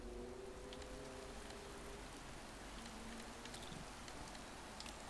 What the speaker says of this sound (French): il pleut depuis plusieurs heures et ça ne risque pas de s'arrêter